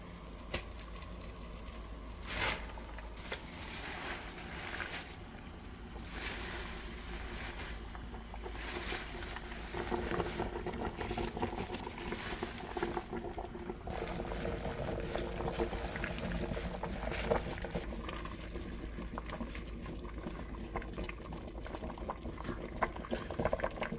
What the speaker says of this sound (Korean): 팔팔 끓는 물에 소금 한 줌 넣고 데치겠습니다